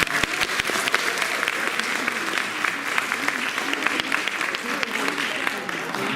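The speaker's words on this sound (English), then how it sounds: "We get a round of applause for all those videos." An audience at a school film festival applauds student videos, a dense, steady round of clapping that lasts throughout, with voices mixed in.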